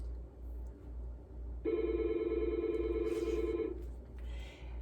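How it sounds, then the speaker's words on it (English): A telephone rings with an incoming call indoors, sounding as one steady, moderately loud ring of about two seconds over a low background hum, with no talking. "oh, I got a phone call."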